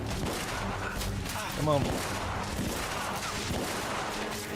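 Gunfire in the video game The Order: 1886, with a steady, dense barrage of shots and rumbling blasts running throughout, mid-distance and loud, while someone speaks over it.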